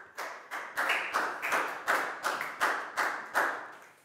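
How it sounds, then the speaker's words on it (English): Students in a Year 4 maths lesson give a classmate a round of applause: around ten crisp, evenly paced group claps in a steady rhythm, fairly soft and free of speech. "Big round of applause for Net"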